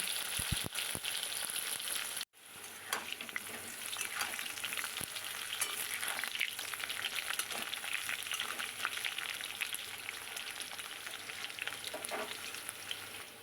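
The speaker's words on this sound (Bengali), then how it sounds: "আলুটাও বেশ লাল লাল করে ভেজে নিলাম" Thick-cut potato pieces fry in hot oil with a steady, dense sizzle and occasional stirring scrapes, broken by a brief cutoff near the start, then a continuous crackle throughout.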